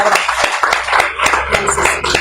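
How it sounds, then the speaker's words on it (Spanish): A church congregation claps together after a sermon, a rhythmic pattern of fairly close, distinct hand claps with some irregular individual claps mixed in, lasting a couple of seconds. "Dale un fuerte aplauso a nuestro Dios por su palabra"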